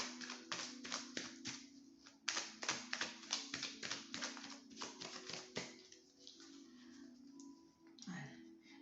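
Tarot cards being shuffled and laid out during a reading, giving a run of quick, light taps and flicks close up, with faint talk in the background.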